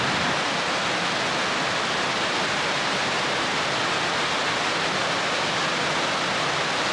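Snake River rushing past the Jackson Lake Dam in Grand Teton, a steady, loud broadband roar of flowing water filling the whole stretch with no break and no voices.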